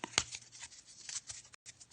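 A stack of playing cards is shuffled close by, giving quick papery riffles and flicks with a brief pause in the middle, quiet and with no talking.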